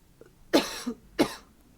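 Two harsh, wet coughs a moment apart, close and fairly loud, with quiet in between.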